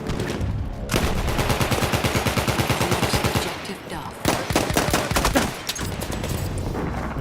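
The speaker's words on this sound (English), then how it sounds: "Is somebody else shooting on me?" Sustained automatic weapon fire in the World War I shooter Battlefield 1, rapid rhythmic bursts rattling almost continuously with a few heavier reports, loud and close, no talking.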